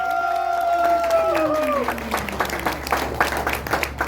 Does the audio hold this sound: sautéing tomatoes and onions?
no